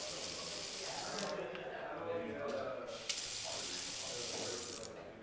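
A sink faucet in a house in Arizona runs steadily nearby, a broad hissing splash of water that stays constant for several seconds with small shifts in the flow.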